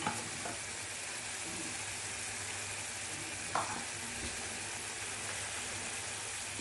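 Ghee sizzles and fries steadily in a pan of jackfruit curry, a dense continuous crackle heard close up with a couple of brief louder pops and no talking.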